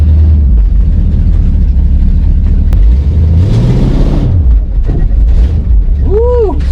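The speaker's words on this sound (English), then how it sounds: "Woo! Spun the tires." A 1966 Ford Thunderbird that had sat for years revs its engine loudly up close, with a rising and falling pitch sweep as the tires spin, and a brief chirp-like squeal near the end.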